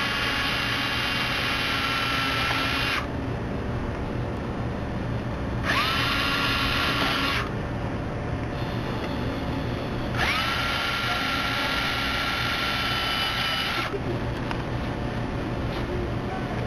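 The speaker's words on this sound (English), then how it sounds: "We're going to pre-drill the corner mounting locations" A power drill pre-drills corner mounting holes through boat deck material while a hatch access panel is being installed. Two long drilling passes run loud and close, each several seconds, with a steady hum between them.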